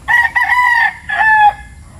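Texas-breed rooster on a farm crowing loudly and close by, one clear two-part crow with a short break in the middle, heard alone.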